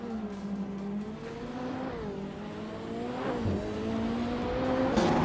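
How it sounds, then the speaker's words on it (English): Race cars in a racing video game roar past and accelerate, engine pitch sliding up and down through gear changes in a steady, close, continuous whine. "Scott Dixon and Amy are locked in a close fight for 10th"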